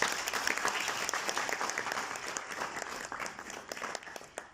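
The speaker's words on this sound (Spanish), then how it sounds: "Un aplauso," Sustained audience applause fills a lecture hall after a speaker is introduced, a dense, steady wash of many hands clapping at moderate distance, lasting several seconds with no talking over it.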